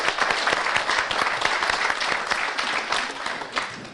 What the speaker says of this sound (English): so we can applaud that and applaud the officers of the board